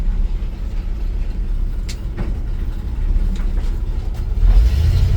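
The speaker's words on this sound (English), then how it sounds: "Shifts through the gears nicely." 1958 Dodge D200 4x4 truck driving along a road, a steady low engine and road rumble heard from inside the cab, with faint clunks as the gears shift and a swell near the end.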